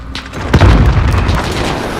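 A grenade goes off in the Modern Warfare video game, a single heavy boom with a deep rumbling tail that stays loud through the rest of the moment.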